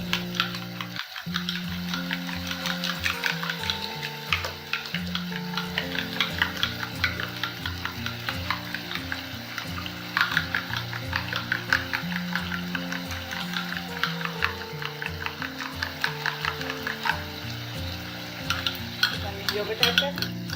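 Chicken karahi is stirred in a pan with a spoon, scraping and clinking steadily over a soft sizzle, while music plays underneath.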